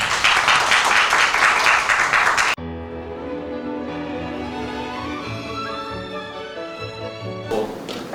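Audience at a university showcase presentation claps loudly and densely for a couple of seconds, then cuts abruptly to sustained music with steady tonal notes, with a brief burst of clapping returning at the very end.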